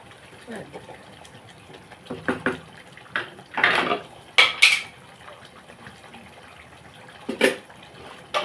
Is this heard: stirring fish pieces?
yes